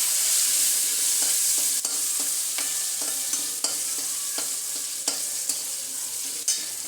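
Green chillies sizzle in hot oil in a pan while being fried for sabudana khichdi, a steady close hiss broken by repeated knocks and scrapes of a stirring spoon.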